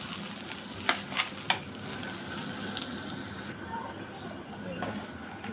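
Spices fry in a pan as water is poured in, producing a soft sizzle broken by a few sharp stirring clicks at moderate, fairly quiet level.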